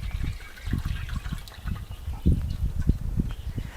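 Water pours into a hot pan for cooking suadero, a close, uneven gurgle and splash with bursts of bubbling that rise and fall, with no voices.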